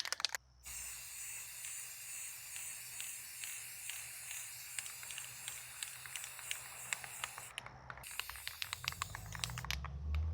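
Light bursts of spray paint hiss onto an airsoft rifle in short repeated puffs, faint and close, with small clicks and pauses between passes.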